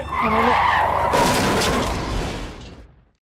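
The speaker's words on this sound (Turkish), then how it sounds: "Tırı böyle kamyon böyle kaysın diye" A heavy truck in the Euro Truck Simulator 2 driving game skids hard, a loud sustained tyre screech over rumbling engine noise that swells, then fades out abruptly into silence near the end.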